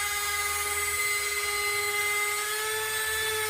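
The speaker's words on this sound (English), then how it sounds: "slowest spin I can put my Dremel on, and it's still melting the material" A Dremel rotary tool at its slowest speed whines in a steady high-pitched tone as it plunge-cuts into the plastic of a Ford F100/F250 steering wheel, close and constant.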